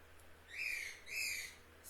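A pet bird indoors gives two loud, harsh, sustained calls in quick succession, each rising and then trailing off, with a third call starting at the end.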